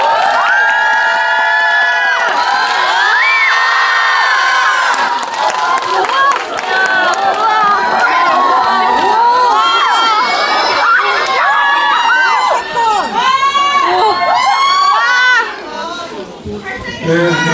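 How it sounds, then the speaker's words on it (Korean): A cinema audience at a final stage greeting for the film Veteran 2 at CGV Yeongdeungpo cheers and screams loudly and continuously, with many excited high voices shouting over one another for the whole stretch. "큰 박수 부탁드릴게요"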